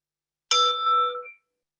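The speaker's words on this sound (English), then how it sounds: "we'll start and end this practice with the sound of the bell." A single mindfulness bell is struck once, ringing clear and bright with a sustained shimmering tone that decays and fades out within about a second, alone in silence.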